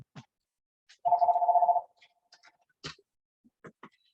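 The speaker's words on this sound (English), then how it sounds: "my phone is ringing" A phone rings once with a short, steady electronic tone, clear and close, set among sparse faint clicks and rustles in an otherwise quiet room.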